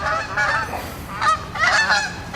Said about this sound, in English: Hey, there's some Canadian geese right now.